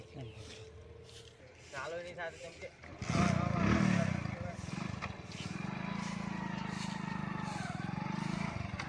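A motorcycle engine fires up after some talk, then settles into a steady, loud idle-to-riding drone close by.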